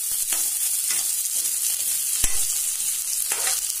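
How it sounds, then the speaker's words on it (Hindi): A spoon scrapes and stirs a raw kadhi mixture in a hot pan with a few sharp clanks, over a steady sizzling hiss. "और इसे थोड़ा चला देंगे ऐसे, कच्चे में इसको अच्छे से चलाएंगे।"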